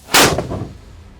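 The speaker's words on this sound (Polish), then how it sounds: "To jest czarny proch, tak jest. Armata jest gotowa do strzału." A black powder cannon at a historic fortress fires one loud, sharp blast, and its booming echo rolls away and fades over the next second. Nobody speaks.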